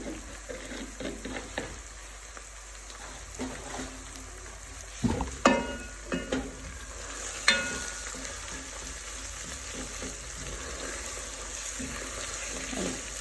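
Fante Fante stew base with curry powder frying in a pot, a soft steady sizzle with a few sharp stirring clinks and scrapes in the middle.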